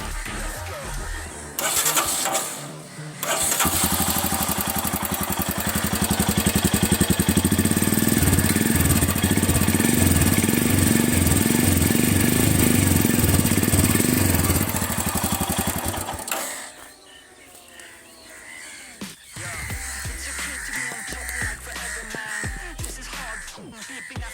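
A Royal Enfield Scram 411 motorcycle engine starts and runs steadily with a deep, thumping idle, then cuts off, leaving quieter background noise.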